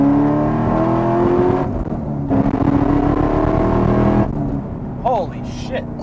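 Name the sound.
2014 Chevrolet Camaro ZL1 engine accelerating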